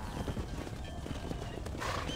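Hooves pound in a quick, steady galloping rhythm from a horse in the Red Dead Redemption video game, close and continuous with no talking.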